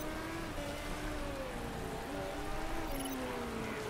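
Race cars whine past during a rainy race in the Motorsport Manager video game, engine tones rising and falling under a steady hiss of rain, moderately faint and with no voices.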